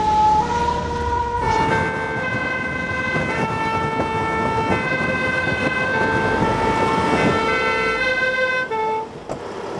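A loud ambulance siren in French Polynesia wails steadily and close by, its tones sustained over rumbling traffic noise before cutting off near the end.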